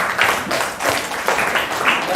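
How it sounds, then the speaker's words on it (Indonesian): Classroom applause for a student discussion group, a steady broadband patter of many hands clapping for about two seconds, moderately loud, with no talk over it. "Kasih tepuk tangan untuk kelompok 1"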